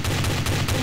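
Rapid gunfire from the video game Trouble in Terrorist Town: a loud, close burst of about four evenly spaced shots in under a second, with no talk.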